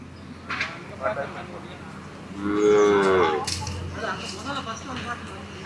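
A Kangeyam native cow gives a long, loud moo in the middle, with other livestock sounds and muffled voices of a busy cattle market around it.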